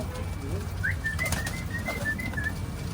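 Pigeons kept at a relative's house call softly in a series of short, faint tones over a low background hum.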